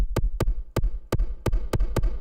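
A deep electronic kick drum from the Battery drum machine, sent into reverb, thumps steadily, about four beats a second, each hit trailing a short reverberant tail.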